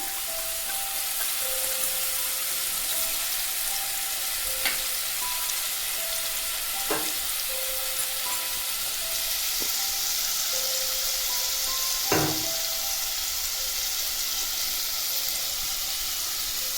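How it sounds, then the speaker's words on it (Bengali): A spice paste for doi begun fries in oil with a steady, even sizzle and hiss close up. A few faint clinks sound over it, and nobody speaks. "মশলার পেস্টটা আমি তেলের মধ্যে দিয়ে দিলাম।"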